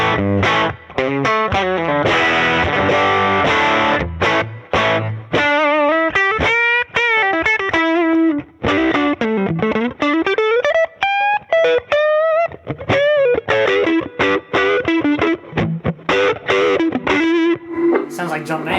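An electric guitar plays through a Two-Rock Studio Pro 22 amp with drive, loud and close, giving sustained, gritty lead notes with bends and quick runs. The playing goes on for nearly twenty seconds with short pauses between phrases.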